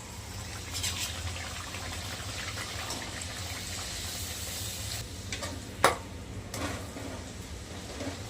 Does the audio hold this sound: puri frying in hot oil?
yes